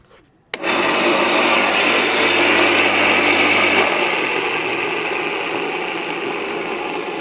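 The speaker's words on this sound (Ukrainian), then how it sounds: "що вертула ще буде декілька секунд крутитися" Electric lawn mower motor and blade starts with a sudden onset and whirs loudly and steadily, a low hum cutting out near four seconds while the blade keeps spinning down at slightly lower level, no braking, alone without talk.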